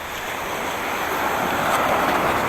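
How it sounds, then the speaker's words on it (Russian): Steady roar of surf on a wild beach, loud and continuous, with a broad hiss of breaking water and wind across the full span. "на более-менее хороший пляж, дикий такой"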